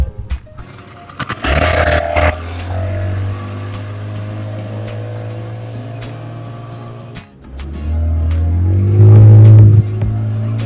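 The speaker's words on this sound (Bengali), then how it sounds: "আমাদের বোট ছেড়ে দিল বাহ এই ফার্স্ট টাইম স্পিড বোট চলছে" A speed boat engine on a hill-ringed lake at Chandil drones steadily and close, with a brief surge early on and a louder rising rev near the end.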